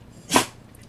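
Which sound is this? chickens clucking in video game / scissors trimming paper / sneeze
sneeze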